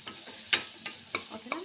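A pan of sweet corn and ingredients for creamy pasta gets stirred while frying, with soft scraping strokes and a few sharp clinks of a utensil against the pan, set over a quiet sizzle.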